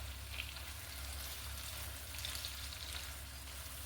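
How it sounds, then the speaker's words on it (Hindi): Chopped vegetables and tomatoes fry in a pan for a creamy chicken curry, giving a steady, even hiss of sizzling oil with faint crackles throughout, close and continuous with no talking. "अब इसे थोड़ा सा फ्राई करते हैं।"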